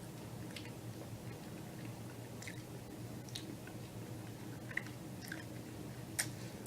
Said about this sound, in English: So I was also tasting some of the beans.